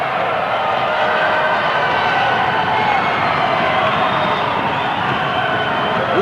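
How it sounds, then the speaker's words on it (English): A wrestling arena crowd on their feet cheering for Strongbow, a dense, steady roar of many voices that stays loud and continuous throughout, with no single voice standing out. "And the crowd on their feet cheering Strongbow."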